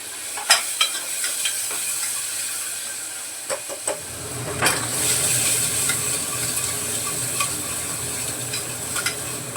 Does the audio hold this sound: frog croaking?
no